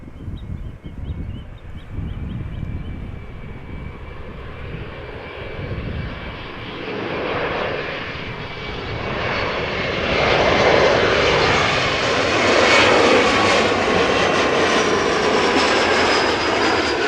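Jet airliner engines at Amsterdam Schiphol Airport, a broad steady roar that swells over about ten seconds as an aircraft passes close, loud and continuous with no talking.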